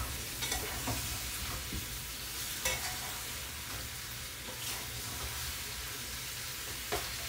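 Curry wings being stirred in a pot while they fry, giving a steady sizzle broken by repeated scraping and stirring strokes, close up with no talking.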